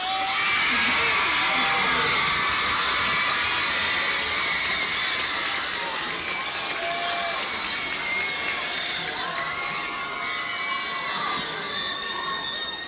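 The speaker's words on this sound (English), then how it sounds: "how about another rousing round of applause for our JHS Homecoming Court for 2024" Crowd at a Jacksonville High School varsity football game cheering and whooping for the newly crowned 2024 homecoming queen, a dense, loud, sustained roar with high shouts and screams throughout.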